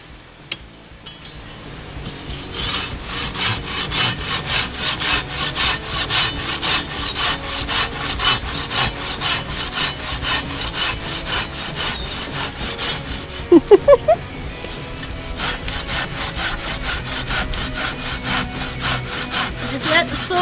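A Silky Katana Boy 1000 folding saw cuts through wood in fast, rhythmic push-pull strokes, loud and close, keeping up a dense rasping stream with a brief clink partway through before the sawing resumes.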